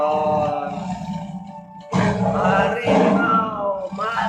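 A tiger roar ringtone: a deep, rasping growl that swells, breaks off briefly, then returns louder in a second drawn-out roar, close and dominant.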